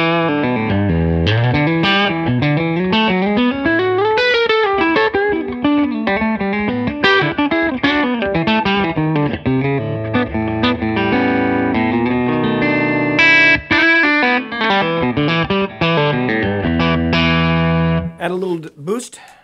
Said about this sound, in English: Clean, it sounds like this.